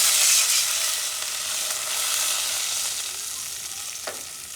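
Onions fry in a pan for Maggi noodles as water is poured in, a steady close hiss and bubbling sizzle that softens slightly, with one brief clink near the end.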